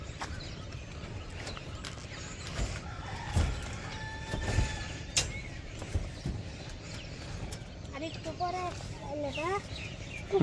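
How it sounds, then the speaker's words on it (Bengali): Village birds in the Bangladeshi countryside in the morning, with a rooster crowing and clucking in the latter part over a steady outdoor background and faint voices. "একটু শোনাই আপনাদের পাখির কিচিরমিচির"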